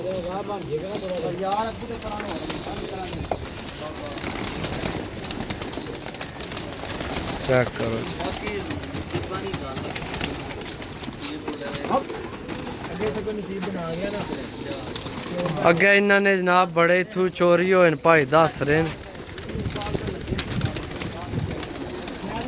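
Pigeons coo softly from a rooftop loft, the low rolling calls recurring through steady conversation, with a louder, busier burst of bird sound and fluttering near the end.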